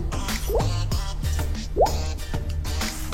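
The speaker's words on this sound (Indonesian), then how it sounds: "Udara yang di dalam gelas tadi keluar, sehingga terjadilah ada gelembung-gelembung udara" Air bubbles escape from a drinking glass tilted underwater, a run of close liquid gurgles and plops with a few rising bubbly chirps, repeating at an irregular pace.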